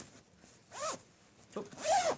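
A zipper on a handmade knitting project bag is pulled in two quick strokes, close and crisp, each a short rasping zip with a brief pause between them.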